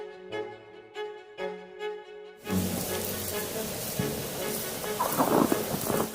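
Thunder from two back-to-back lightning strikes over Mineral Wells, a sudden broad rumbling roar that follows a stretch of music and swells into a sustained, loud crackling storm wash.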